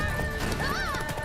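A horse in The Witcher video game whinnies with a rising, wavering cry over clip-clop hooves and a dense background of game sound.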